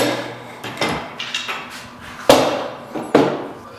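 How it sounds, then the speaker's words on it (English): Metal clamps set down one after another on a wooden workbench in preparation for gluing coffee table legs, giving a series of sharp knocks and clacks, two louder than the rest, with no talking. "To glue our legs, we're first going to lay out a series of clamps."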